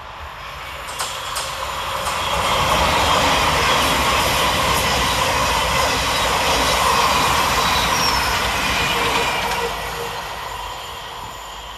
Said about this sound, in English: Next passing through the station is 700137, working 9 Tango 10 for Govia Thameslink from Brighton to Bedford.